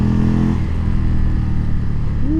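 2020 Indian Chieftain Limited motorcycle with a stage 2 engine pulling hard on the road, a loud, deep, steady engine drone with some wind, heard up close with no talk.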